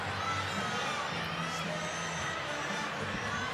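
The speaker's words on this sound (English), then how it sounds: "Obviously, the crowd is going wild" A packed arena crowd cheers and shouts at a college gymnastics meet between LSU and Florida, a loud continuous roar of many voices with higher shrieks mixed in.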